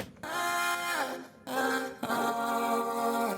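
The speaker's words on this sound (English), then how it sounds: "They sent the full stem of the dry vocal with the vocoder already in the stem" A dry vocal stem run through a vocoder, a robotic harmonic-rich singing voice in two long sustained phrases separated by short gaps, loud and isolated with no other instruments.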